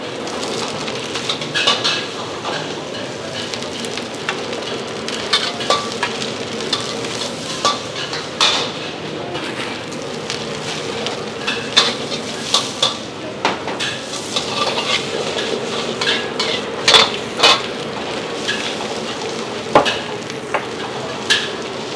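Noodles with chicken stir-fry in a hot pan, steady sizzling and hissing with frequent clinks and scrapes of a utensil stirring, continuous and close throughout.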